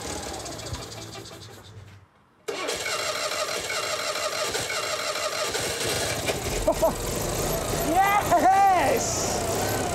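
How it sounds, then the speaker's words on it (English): Citroën 2CV Fourgonnette van engine cranking, then catching and running with a steady buzzy idle and rising revs, with voices talking over it. "not least getting that engine running"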